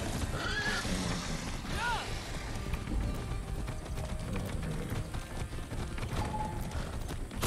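Horse neighing in Far Cry 6, a few short whinnies rising above galloping hooves, gunfire and game noise, with someone talking over the action.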